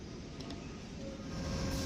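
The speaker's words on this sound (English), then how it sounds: "Our train is hauled by an Amtrak P42 DC locomotive capable of 110 miles per hour" Steady, loud rumbling of a train hauled by an Amtrak P42DC diesel locomotive, a continuous low drone with mechanical clatter that swells slightly toward the end.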